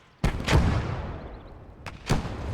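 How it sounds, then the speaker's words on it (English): Mortar shells striking nearby in the Gates of Hell video game, two pairs of heavy thudding explosions with rumbling decay between them, loud and close. "They got a mortar that's hitting us as he's calling it out."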